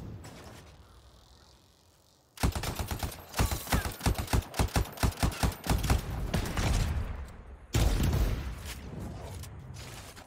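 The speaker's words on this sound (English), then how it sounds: "Is that a wyvern shooting at me?" Rapid bursts of gunfire as a wyvern attacks the player in the video game Anthem: loud, closely spaced shots, fuller blasts in a sustained volley after a quiet lead-in, then a heavy burst near the end.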